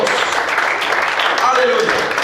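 A congregation applauds and cheers in a church service, a steady wash of clapping and voices filling the room, with talking and shouts mixed in throughout.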